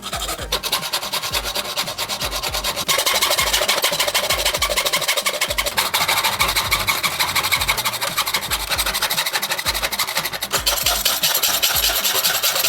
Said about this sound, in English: Now I'm going to take this hacksaw and cut this piece off.